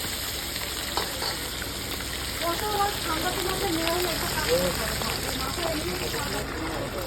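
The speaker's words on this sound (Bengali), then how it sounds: "500 গ্রাম ওজনের কিন্তু বন্ধুরা রুই মাছ এখন ভাজা করছে" A 500-gram rohu fish fries in hot oil with a constant, dense sizzle and small crackles that fill the whole clip at an even level.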